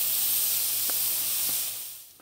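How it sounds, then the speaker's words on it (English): Onions sauté in a hot pan for black bean tacos, giving a steady, bright sizzling hiss with a few faint clicks that gradually tapers off near the end, with no voices. "We want to saute these for a few minutes till it gets translucent, till your onions turn translucent."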